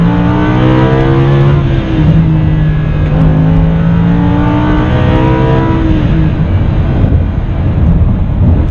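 A 2016 Lamborghini Huracan 580-2 accelerates hard through rising engine notes, with a brief shift dip and then another climbing pull, very loud and close from inside the car, with no talk.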